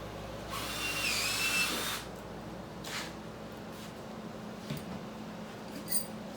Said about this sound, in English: you just drilled a hole